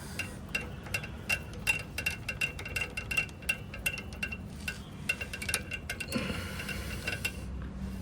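Metal screws on a V100 motorcycle starter being loosened with a screwdriver, giving a steady run of small close clicks and ticks over a low workshop rumble, with no voices.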